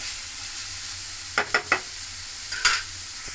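Chopped papaya frying in a pan over low-to-medium gas gets stirred in three quick scraping strokes, then a fourth a moment later, over a faint steady sizzle, with no voices.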